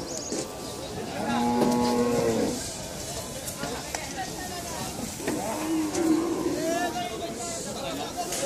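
Cattle low twice while being loaded onto a truck at a cattle market: two long, resonant moos a few seconds apart, set against steady crowd babble and background activity.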